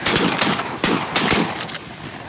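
Rapid close shotgun blasts during a goose hunt over sheet water in Minnesota, several loud overlapping shots in quick bursts with a short pause between volleys.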